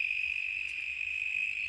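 Crickets chirp in a steady high continuous trill in a small scrappy garden, filling the short stretch of quiet outdoor air with no talk.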